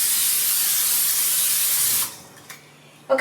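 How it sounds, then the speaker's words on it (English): Pam cooking spray hisses onto a baking pan being greased for a cream roll: one steady, loud spray lasting about two seconds, then it cuts off, leaving a quiet room with a couple of small knocks. "Then we're going to spray the pan,"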